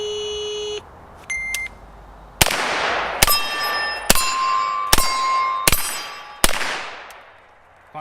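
A shot timer beeps, then pistol shots from a GHM9 pistol fitted with an EOTech sight ring out, striking a steel gong and steel targets outdoors: six sharp cracks, each followed by a ringing metallic clang that decays.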